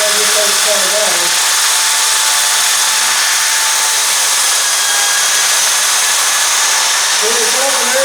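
A sandpaper disc spins against a natural edge wooden bowl turned from a limb, giving a loud, continuous abrasive hiss and whine that holds steady throughout, with a low motor hum underneath.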